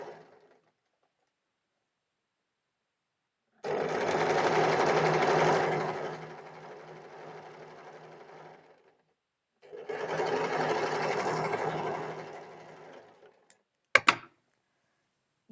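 Sewing machine stitching a blouse belt dart: two bursts of rapid, close mechanical whirring separated by a pause, followed by a couple of sharp clicks, with no voices.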